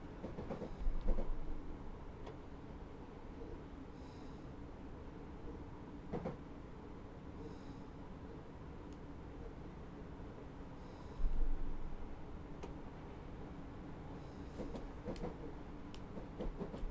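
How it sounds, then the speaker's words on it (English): A Class 313 electric train runs in the game Train Simulator, with a low steady rumble, a few clicks and clunks, and a louder knock of wheels over track joints at two points. "Just going to slow the train right down now"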